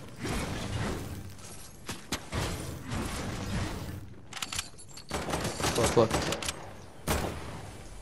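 Fortnite gunfire: bursts of rapid shots and clattering mechanical game sounds come in uneven waves with short gaps, while a player talks over the action.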